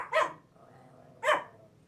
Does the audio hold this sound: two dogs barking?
yes